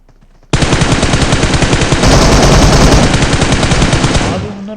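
Loud, sustained automatic gunfire in a PUBG-style squad match, a rapid continuous burst starting abruptly and running for several seconds before tapering off, close and dominant.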